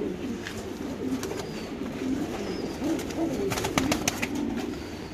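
Pigeons coo repeatedly in soft, low, throaty phrases, with some wing flutters and clatter nearby, and no speech.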